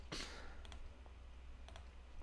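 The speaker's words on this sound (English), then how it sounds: "I'm clicking it." Computer mouse clicks while playing Poptropica, giving sharp, close clicks in small pairs spread across a couple of seconds over a low hum.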